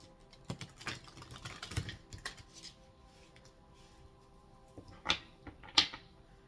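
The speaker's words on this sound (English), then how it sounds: "3 shuffles here." Oracle cards shuffled by hand, giving scattered soft taps and sharper riffling snaps, a few louder flicks near the end, close up and quiet over a low steady hum.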